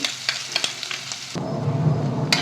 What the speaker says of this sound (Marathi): आता ना हा ठेचा छान परतून घ्यायचा.